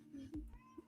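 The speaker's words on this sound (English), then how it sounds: "Now you can hear a cat." A house cat named Voodoo gives a short, quiet meow, faint and brief against low room noise.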